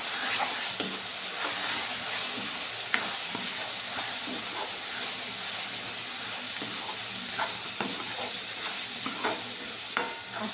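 Masala paste sizzles steadily in hot oil as it is stirred into homemade-style chicken, with a continuous frying hiss broken by repeated spatula scrapes.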